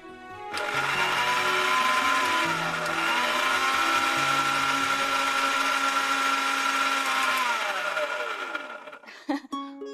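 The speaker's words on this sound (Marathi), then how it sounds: "वहिनी तुम्ही मिक्सर आणलाय ना, मला तर एवढं वाटून द्या ना" Mixer grinder grinding chutney in a home kitchen, a loud steady motor whine running for about eight seconds before winding down and stopping, followed by a few clattering knocks.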